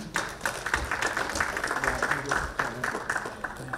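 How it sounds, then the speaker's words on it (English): A hall audience at a sustainability awards summit applauds a CEO called to the stage, with steady dense clapping and a few sharper claps near the front throughout. "May I have a big round of applause for him?"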